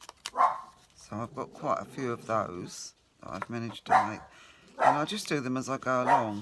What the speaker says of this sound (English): Oh, excuse my dog, she's barking